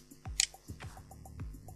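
A computer mouse button gives a few quiet, sharp clicks in quick succession, close to the microphone, with no voices.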